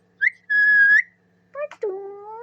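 A pet bird named Pottu whistles clearly at close range: a short rising chirp, a long steady whistled note, then a pair of sliding whistles after a brief pause.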